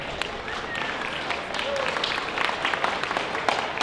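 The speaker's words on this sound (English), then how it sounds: "Please give a round of applause and a warm welcome to Kodenkan Center." Audience applause greeting a Kodenkan Center jiu-jitsu martial arts group on the main stage at a Japanese festival in Tucson, a steady wash of many hands clapping throughout with crowd noise.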